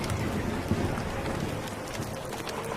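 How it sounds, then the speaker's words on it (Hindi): A strong cartoon storm with heavy rain pours as a dense, steady hiss with low rumbling thunder underneath, loud and continuous. "तभी तेज तूफान आता है"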